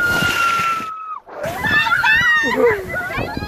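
Water crashes and sloshes over riders on a SeaWorld water ride in San Antonio, Texas, passing under a waterfall, with a loud splash that briefly cuts out before excited children and adults shout and scream.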